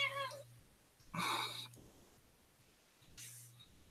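A house cat meows softly indoors, giving two short, bright calls about two seconds apart, faint and close, with a low hum running beneath.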